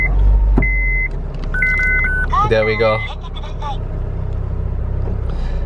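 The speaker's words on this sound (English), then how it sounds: "Let me just again start up the car to show you guys." A Honda FD2R car starting up: a few electronic beeps, a brief starter crank, then the engine settling into a steady low idle, with someone talking over it.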